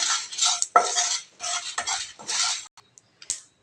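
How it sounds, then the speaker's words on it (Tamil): Dried chillies and curry leaves dry-roasted in a pan with no oil for a quick mango pickle, giving close, repeated scraping and stirring rattles in bursts with brief metallic clinks and pauses. "இது நம்ம எண்ணெய் எதுவும் சேர்க்காம தான் ட்ரையாக வறுத்தெடுக்கணும்"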